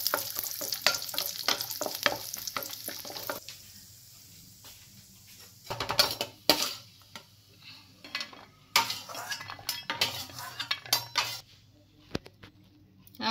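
Nuts and raisins crackle and sizzle in hot ghee as a spoon clinks and scrapes against the pan. The spattering rises in loud bursts between quieter gaps, and no one talks.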